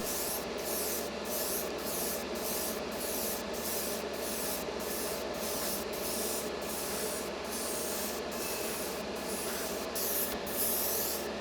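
A spray can hisses steadily and close while paint goes onto a Tamiya Toyota Mk V Supra model car body, with a faint regular ticking running underneath the continuous spray for about eleven seconds.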